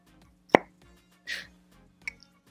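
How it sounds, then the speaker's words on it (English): A Becca lipstick case pops open with one sharp, close plop near the start, followed by a softer rustle and a small click, all against near silence. "I love when you open a lipstick and it makes that sound."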